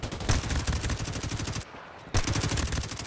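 Rapid automatic gunfire in a team deathmatch shooter video game, loud and continuous bursts of shots that stop briefly and then resume.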